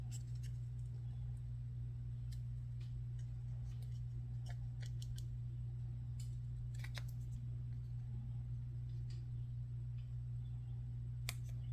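Scissors snip paper lemon shapes for a fold card: a run of small, sharp cutting clicks scattered through the clip over a steady low hum, close and fairly quiet.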